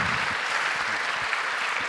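An audience at a science show applauds a researcher after a talk on membranes and homochirality, producing a steady, dense wash of clapping that stays at an even level for the whole stretch.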